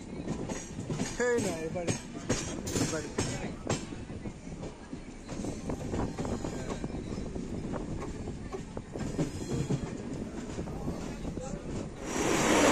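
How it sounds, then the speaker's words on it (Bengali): Dhauli SF Express pulling into Bhubaneswar station, a steady rumble of rolling coaches with rhythmic wheel clatter running throughout, a voice talking over it near the start and the sound swelling louder at the very end. "আমাদের ট্রেন এই মুহূর্তে এসে পৌঁছালো ভুবনেশ্বর"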